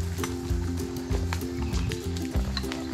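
Horses moving nearby with rhythmic hoof clip-clop and snorting during a ride past other horses in a field, fairly close and steady over a few seconds.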